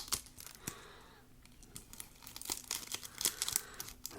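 Crinkly, crackling handling of a South Korean snack and its wrapper as it is folded over to make it thicker, close and quiet, with irregular bursts of crunching and crumpling.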